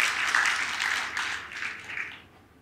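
A church congregation applauds in a broad, dense burst of clapping that swells early, holds steady, then fades away over the final moments with no talk.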